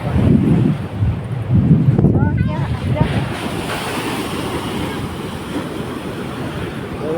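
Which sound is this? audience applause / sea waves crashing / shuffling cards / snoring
sea waves crashing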